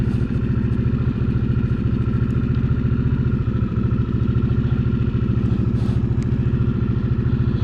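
A Harley-Davidson Sportster S motorcycle engine idles steadily up close, a loud, even, throbbing pulse that holds without change from start to finish, with no other sounds on top.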